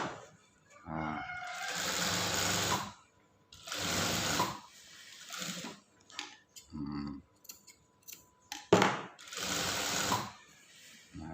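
A sewing machine stitches the inner side of a Shanghai-style mandarin shirt collar, running in several bursts of a few seconds each, separated by pauses with faint handling noises.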